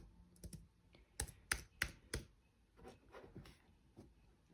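Typing on the keyboard of an Acer Nitro 5 laptop: a short, irregular burst of crisp key clicks, several quick strikes bunched together then sparser taps, close and alone.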